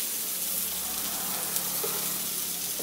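Vegetables with chopped cabbage, beans and tomato fry in a pan, giving a steady, even sizzle that stays close and constant with no talking.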